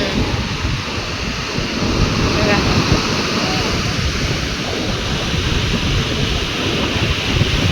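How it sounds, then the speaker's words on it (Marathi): Sea waves at Worli Seaface in Mumbai wash in as a steady, broad roar with wind buffeting, continuous and fairly loud throughout. "ते बघा लाटा, बघा बाई लाटा"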